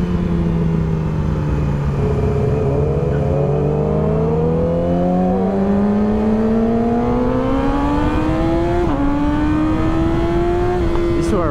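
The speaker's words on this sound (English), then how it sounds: "These two are racing up here." Two cars race past with engines revving and rising in pitch, loud and close, as one driver accelerates steadily across the passage. Someone talks over the engine noise.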